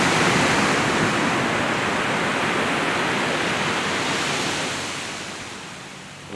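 Recorded ocean waves make a continuous soft hiss and wash that fades slightly toward the end, steady and unbroken with no voices.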